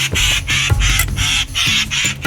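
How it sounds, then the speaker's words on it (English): Near a guest lodge in Hoedspruit, South Africa, birds call in alarm at a boomslang, a loud, harsh, rasping chorus of repeated squawks in rapid bursts with brief gaps, close and dense, with no talking. "The birds, they don't like it."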